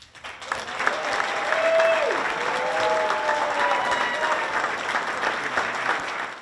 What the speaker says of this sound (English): Where he received a standing ovation.